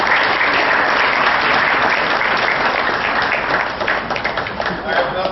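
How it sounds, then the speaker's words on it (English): Loud, sustained applause from a large audience at the World Summit Awards 2013 session in Colombo, a dense continuous wash of clapping that thins slightly toward the end. "A round of applause."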